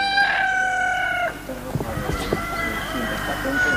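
A León breed rooster crows in one drawn-out call, then scattered clucks and outdoor farm noise follow.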